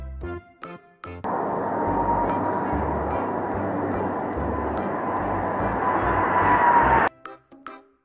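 A steady roaring airplane engine drones for several seconds, loud and even, with brief speech just before and after the noise.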